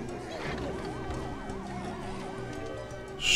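A warbling siren alarm rises and falls in the video game Plants vs. Zombies 2. It sounds over a busy layer of game music and effects, at moderate loudness, and ends with a sharp burst of noise.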